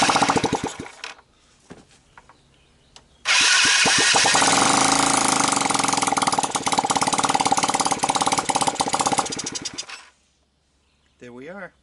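An ATV pit bike engine cranks and sputters briefly, then catches on choke and runs loud and steady with a rough, revving roar for several seconds before cutting off, followed by a short voice.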